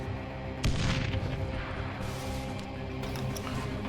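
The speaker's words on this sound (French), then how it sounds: "Grenade!" A grenade blast in the zombie video game Dead Island Riptide, a sudden loud burst with a broad rumbling tail that settles into continuing game noise and distant gunfire.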